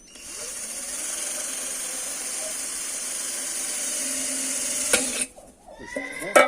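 A power drill whines steadily for several seconds boring holes in a hanging planter pot, then cuts off abruptly, leaving brief clatter and rustling nearby.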